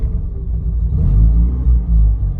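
A 2004 Mazda RX-8 rotary engine with an idle problem, kept running with the throttle held: a loud, close, steady low rumble that swells slightly partway through, with no talking.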